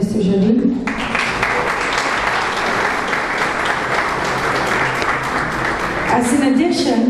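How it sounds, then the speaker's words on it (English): Sustained audience applause for a minister at a financial services New Year's event, a dense, even clatter of many hands that starts abruptly after a brief voice and carries on steadily to the end. "A round of applause for Minister Jardim."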